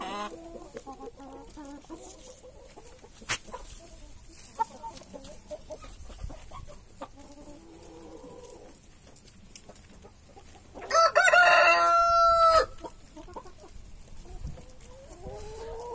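Farm hens cluck and murmur close by while feeding on a pumpkin, with a short loud rooster crow bursting out in the middle.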